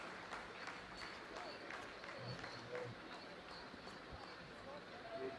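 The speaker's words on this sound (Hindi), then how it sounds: "आप इस तालियों के गड़गड़ाहट को सुन सकते हैं" Scientists applauding in the Chandrayaan-3 mission control room during the lunar soft landing, steady dense clapping at a distance, with a voice talking over it.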